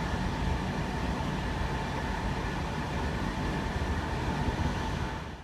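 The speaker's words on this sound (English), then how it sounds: "you could hear the train in the background" A train rumbles past continuously, a loud, steady roar with a broad hiss that fades slightly at the very end, with no voices.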